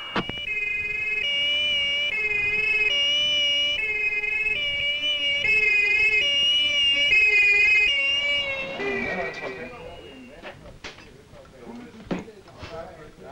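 Two-tone ambulance siren wailing steadily and loudly from an ambulance en route to hospital with a doctor and patient aboard in 1970s Copenhagen, then cutting out into scattered clatter and knocks.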